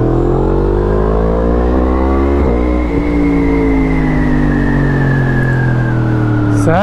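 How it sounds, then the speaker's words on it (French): A Yamaha MT-10 motorcycle engine revs loud and close, its pitch climbing steadily through the gears in a smooth rising whine that is continuous throughout, with no talking over it. "Pas avec moi aujourd'hui, je pars en moto."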